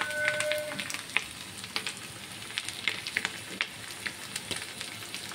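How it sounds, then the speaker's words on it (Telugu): Chopped ginger pieces sizzle and fry in a pan, a steady crackling hiss with scattered pops and occasional stirring clinks, close and fairly quiet. "ఇప్పుడు నేను ఇందులోని అల్లం ముక్కలు వేసుకుంటున్నాను"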